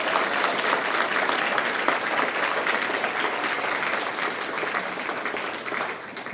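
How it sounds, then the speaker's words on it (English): A large audience applauds at a high school athletic hall of fame induction ceremony, the clapping dense, loud and steady throughout with a faint murmur of crowd noise underneath. "one more round of applause"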